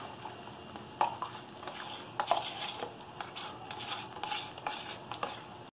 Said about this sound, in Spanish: Mezclamos la crema y ya le bajé la llama.